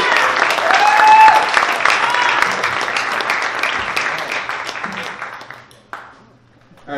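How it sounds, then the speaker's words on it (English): Loud, sustained audience applause welcomes the founder of AI LA onstage at an AI in entertainment and media event, dense clapping that fades after about five seconds before a voice starts. "Let's give him a big round of applause."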